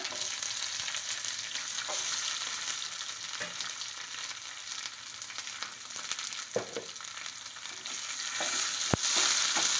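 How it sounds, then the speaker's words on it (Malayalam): Steady, close sizzling of shallots frying in oil, with a few soft scrapes of stirring now and then. "ഗോൾഡൻ ബ്രൗൺ ആവണ വരെ ഒന്ന് വഴറ്റി കൊടുക്കുക"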